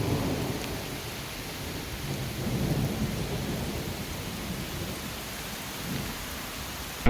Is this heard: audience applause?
no